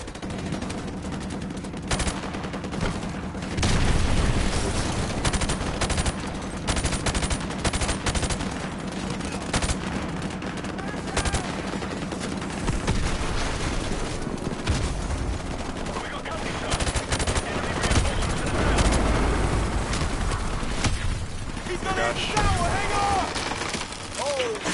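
Gunfire in Call of Duty: Modern Warfare Remastered campaign combat, continuous loud bursts of rifle and machine-gun fire with heavy booms, running throughout under intermittent talking.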